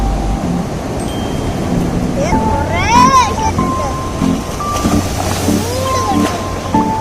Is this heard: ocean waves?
yes